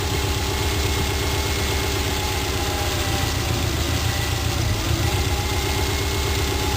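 A Subaru car engine idles with an intermittent fault, giving a steady, close, continuous low rumble with a fine rhythmic pulse throughout and a slight dip near the end.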